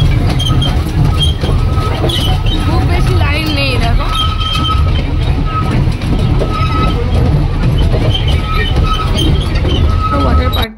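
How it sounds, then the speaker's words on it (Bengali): Toy train ride at Nicco Park amusement park in Kolkata, a loud rumbling rattle of wheels and carriages with occasional squeals and clinks, crowd voices and chatter mixed in throughout. "ট্রেনে, ট্রেন রাইডিং"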